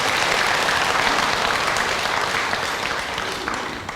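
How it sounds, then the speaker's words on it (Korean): An audience at a Sunday dharma talk at Jogyesa temple breaks into dense, steady applause that carries evenly for several seconds and fades slightly toward the end. "박수 한번 주십시오"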